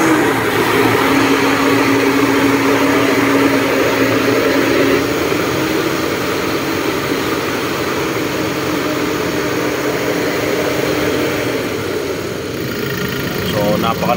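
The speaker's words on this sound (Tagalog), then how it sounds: "napakalakas ng ugong ng makina pagka umaarangkada na" A Toyota Innova engine with a loud roaring fault drones continuously with a broad, airy rush that eases off slightly near the end, while someone talks over it.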